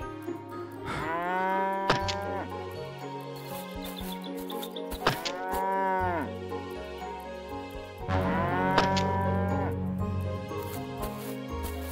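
Cows moo in three long, loud, drawn-out calls spaced a few seconds apart, with faint bird chirps and background music beneath.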